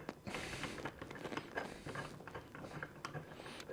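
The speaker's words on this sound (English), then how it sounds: "screw the bolt into the load cell" A bolt is screwed into a shear beam load cell while a mounting kit is fitted, giving close, dense, continuous metallic ratcheting clicks and creaks that run steadily throughout with no talk.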